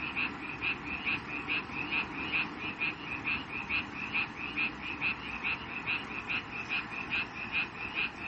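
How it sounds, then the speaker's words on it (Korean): Frogs croak on Bukhansan mountain in a steady, rhythmic chorus of repeated pulsing calls, fairly close and loud, with no voices over them. "두 번째로 들으신 소리는 북한산 개구리가 우는 소리입니다."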